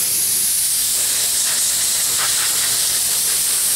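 Oil burns off a hot Jeep Wrangler YJ oil pressure sending unit, giving a loud, steady broadband hiss that carries on without a break and without voices.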